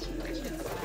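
Soft, low cooing of a pigeon at a pigeon club, a rolling murmur heard close against a faint background hum.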